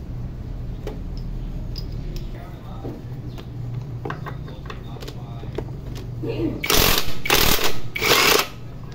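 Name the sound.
impact wrench removing XR150L rear shock bolts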